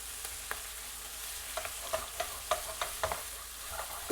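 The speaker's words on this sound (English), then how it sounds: "we're gonna stir fry that in" Pork pieces and translucent onions stir-fry in a pan for gan-jjajang, a steady background sizzle broken by scattered sharp clicks and scrapes of the spatula, close and moderately quiet with no talking.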